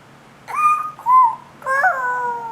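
A toddler of about sixteen months voices a hen imitation in three short, rising squeaky calls with a pause between each, close and clear against a quiet room.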